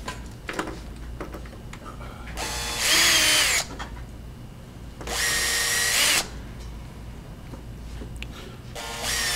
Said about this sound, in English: just starting a little hole to where I put, insert these screws.